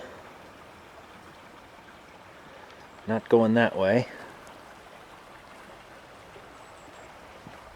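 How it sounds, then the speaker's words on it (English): A small creek flows steadily beside a hiking trail near White Wolf Junction on the Ten Lakes route, giving a soft, continuous trickling wash; a voice briefly speaks over it midway. "Just relaxing by the little creek here."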